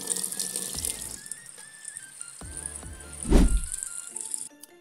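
Tap water pours onto a homemade hydropower propeller, giving a continuous splashing hiss with faint rattles and a brief louder gush near the end, close up, with no talking.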